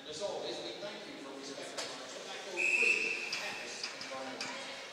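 A referee's whistle blows once, bright and short, at a women's ice hockey game between RPI and Carleton, heard over arena crowd noise while a commentator talks throughout.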